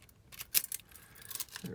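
A full key ring of mixed house keys jangles and clinks close by at a locksmith's bench, a soft metallic rattling with a few brighter chimes, quiet and unaccompanied.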